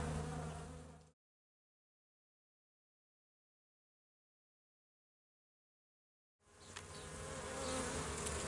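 Honeybees buzzing in an opened hive during a spring inspection, a dense steady hum that cuts out for several seconds of silence and then returns, faint overall.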